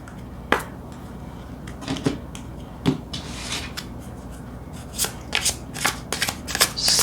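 Prism oracle cards being shuffled by hand, close and crisp, with a few sharp riffles and snaps followed by a flurry of quick shuffling strokes toward the end.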